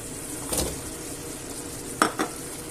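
Carrots are stirred into a pan of simmering meatballs for a homemade stew, with a faint sizzle under a few quiet spoon scrapes and clinks against the pan.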